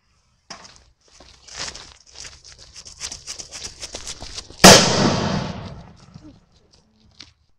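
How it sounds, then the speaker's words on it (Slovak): A Dumbum 2G firecracker crackles with a fizzing fuse, then bursts in one sharp, loud bang that echoes and fades outdoors, followed by quiet and a faint click. "Môžeme začať to najslabšou petardou, čo je Dumbum 2G."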